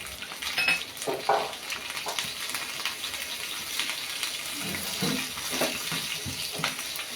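Green chillies and mustard seeds fry in hot oil on a home stove, giving a steady broadband sizzle and crackle with scattered pops and occasional stirring scrapes, close and continuous throughout, with no talking.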